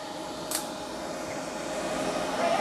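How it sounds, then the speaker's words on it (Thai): The cooling fan of a RENAC 5.5 kW hybrid inverter runs loudly and constantly under load, a steady broadband whoosh with a short click near the start. "กับเครื่องนี้พัดลมจะดังค้างประมาณนี้เลย ไม่มีผ่อนไม่มีเบานะครับ"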